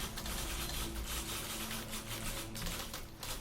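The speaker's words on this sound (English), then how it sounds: "Typewriter." Steady typewriter clacking in The Beginner's Guide: a dense, continuous run of key strikes at moderate loudness, with no voices.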